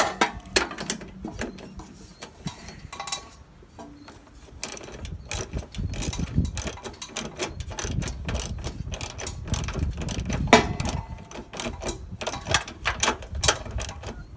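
Bolt being threaded and snugged onto a plastic headlight bracket behind the bumper of a 1994–2001 Dodge Ram, with a dense run of ratcheting clicks and metallic mechanism noise throughout, close and steady with no talk.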